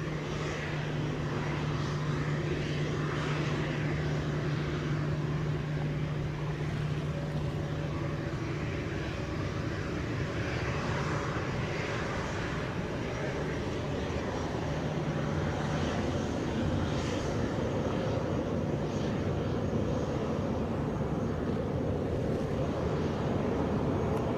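An airplane at Montego Bay airport in Jamaica gives off a steady, continuous engine roar that swells slightly midway, heard from a distance with a low droning hum underneath.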